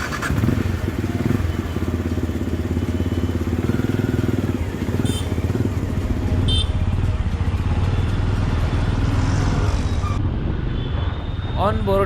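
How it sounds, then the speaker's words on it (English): Benelli Imperiale 400 motorcycle riding on the road, a steady, loud engine drone with wind and traffic noise throughout, road rumble staying constant and near. "so let's ride Benelli Imperiale."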